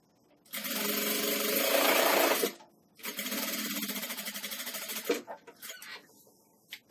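A sewing machine stitches fabric for a nursing pillow in two close, loud bursts: a steady run of about two seconds, a short pause, then a slower, pulsing run, followed by a few faint clicks.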